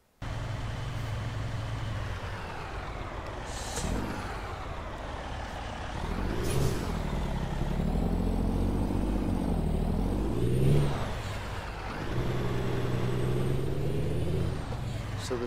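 A modded Peterbilt 359 truck drives in American Truck Simulator, its engine drone rising and falling through gear changes, with a sharp air-brake-like hiss near the start and a steady, moderately loud rumble throughout.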